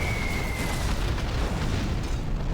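Carpet bombing and artillery shells pound in a video game battle, a continuous rumbling barrage of booms and blasts, moderately faint and heavy in the low end, with no talk over it.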